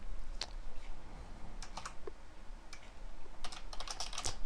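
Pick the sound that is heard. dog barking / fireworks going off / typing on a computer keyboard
typing on a computer keyboard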